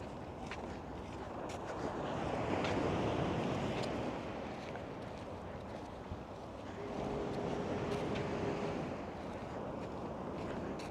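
Waves and wind at Baker Beach in San Francisco: a broad, steady rush of surf with gusty wind buffeting the microphone, swelling twice and easing between, with no voices.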